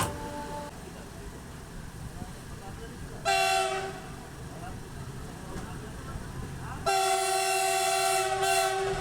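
A Burdwan–Howrah local train runs at speed with a constant rumbling roar. Two louder rushing surges come as a goods train passes close by.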